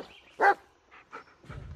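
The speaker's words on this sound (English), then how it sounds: "This is Bullet, your right-hand dog." A dog named as a companion in the Blair Witch horror video game gives one loud, close bark, followed by a few fainter yips and low rustling.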